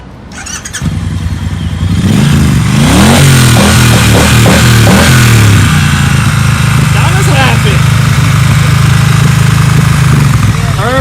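A black 2018 Triumph Bonneville Bobber cranks and fires up at a dealership delivery, then settles into a loud, steady, close idle, with voices talking over it.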